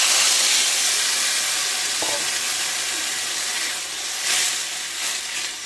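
Loud, steady sizzling and hissing as water hits broken wheat dalia frying in a hot pan, the sputter easing slightly then flaring again near the end, close by in a home kitchen.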